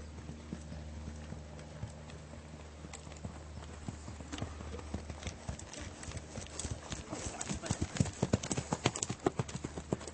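Horse hooves clip-clop steadily on the ground as the horse is ridden during a lesson, the rhythmic footfalls growing louder and more distinct toward the end, with no talking.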